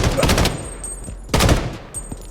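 Gunfire in the Blood Strike video game: two sharp loud bursts of shots about a second apart, followed by a fainter pop, with quiet gaps between.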